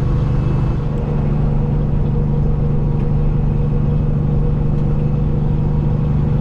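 A truck's diesel engine rumbles low and steady from inside the cab on a quiet night drive along Route 287, a continuous close drone with no talking.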